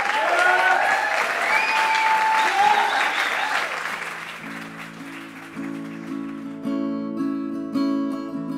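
A live audience at a Heavy Chef keynote claps loudly as it welcomes a guest onto the stage; the dense applause lasts about four seconds, then fades as music starts.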